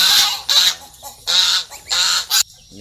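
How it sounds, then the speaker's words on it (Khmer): A mother goose guarding her five grown goslings honks loudly and close by in four or five harsh bursts with short gaps between them. "កូនកាងាននេះបាន 5កូនធំហើយ នេះមេវាស្រែក"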